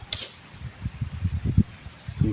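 Latex-like liquid poured out of a tapping cup on a rubber tree, giving short splashy dribbles and trickles in uneven bursts, close by with no speech.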